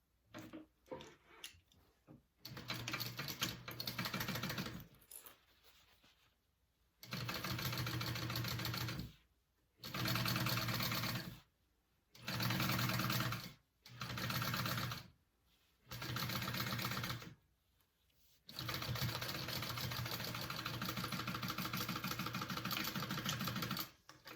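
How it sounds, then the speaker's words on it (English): A sewing machine stitches a crossbody bag panel with a half-inch seam in several separate bursts of steady running, each a few seconds long, broken by short pauses and no talk. "So you want to sew this piece on with a 1/2 inch seam allowance."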